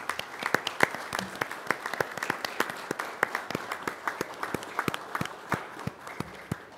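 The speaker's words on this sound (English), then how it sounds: "let's give them a round of applause" Audience and standing family members at a county fiscal court meeting giving a round of applause, a moderate crowd of distinct, sharp claps in a room, steady for several seconds with no speech over it.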